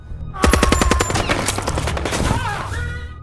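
A rapid burst of automatic gunfire in a gangster film, loud and close, with dense repeated shots over a second or so, then trailing echoes and scattered rattling.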